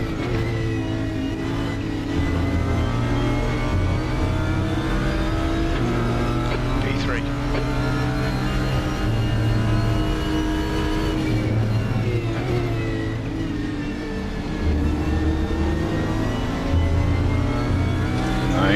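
A race car engine in the RaceRoom sim racing game drones loudly and steadily, its pitch rising and falling through gear changes and throttle lifts, with speech running over it throughout.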